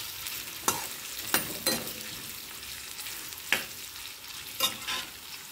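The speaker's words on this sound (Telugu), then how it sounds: "తరిగిన ఆనియన్, ఇంకా పచ్చిమిర్చి రెబ్బలు వేసేస్తున్నాను. ఇది కొంచెం బాగా వేగాలి." Chopped onion and green chillies frying in a pan, with a soft steady sizzle and a few sharp scraping stirs of a spoon, no voices.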